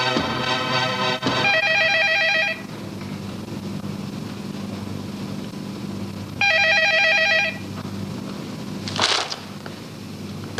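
Telephone bell ringing in two bursts of about a second each, separated by a pause, with a faint low engine hum in the background.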